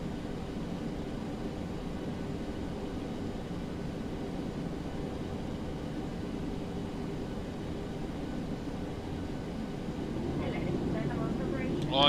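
Steady engine roar of a Boeing 737-800 on its takeoff roll in a flight simulator, a constant low rumble that swells slightly near the end, with faint talk over it.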